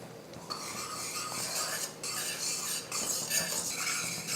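Gram flour is stirred into hot sugar syrup in a pan for Mysore Pak, giving continuous scraping and rubbing strokes of a spoon against metal, close and irregular, with brief clinks and no talking.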